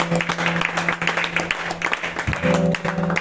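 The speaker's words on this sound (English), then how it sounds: "clap your hands to Jesus" A church congregation at a revival service claps hands through a noisy room, the claps dense and steady with tonal voices or music humming underneath.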